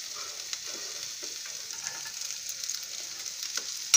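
Onion and beans stirred and fried in a pan with very little oil, a soft steady sizzle with light scraping stirs close by and no voices.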